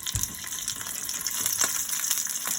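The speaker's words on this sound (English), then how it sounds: "right now the bacon's gonna react to the oil in the pan" Bacon sizzling in hot oil in a pan, a steady close crackling hiss with small pops, running continuously with no voices over it.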